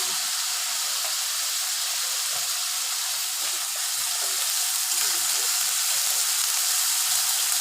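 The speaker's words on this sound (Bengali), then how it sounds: "আবারও ভালো করে ভেজে নিব আদা রসুন পেঁয়াজ সব ভালো করে ভাজবো" Onion with ginger-garlic paste frying in a pan for a yogurt katla fish curry gives a steady, loud, dense sizzle and hiss that continues unbroken throughout, with no talking.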